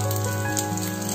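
Mustard seeds, chana dal and dried red chillies tempering in hot oil for a South Indian curry leaves rice, a dense, close, continuous sizzle and crackle with no voices.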